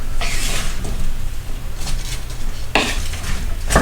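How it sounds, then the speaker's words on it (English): Squid stir-frying in a wok over medium-high heat, a loud, close, continuous sizzle broken by metallic scraping and clanking of a utensil against the wok in a few bursts, without talk. "And I'm cooking this in a wok."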